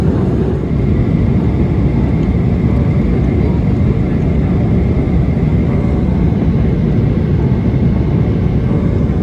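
Loud, steady roar of an airliner cabin during descent toward Chicago, a constant low engine and airflow rumble filling the whole stretch without letup.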